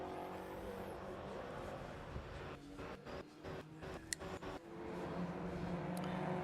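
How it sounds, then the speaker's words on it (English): Race cars at Anglesey Circuit during the Race of Remembrance roar past in a steady, loud engine drone, with brief dips and swells as cars sweep by and a short sharp transient near the middle. "They go steaming past the 555 Subaru."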